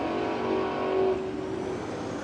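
Holden Commodore Ute drag racing down the strip at a road trip drag challenge, a loud sustained engine roar with steady droning tone, near and alone.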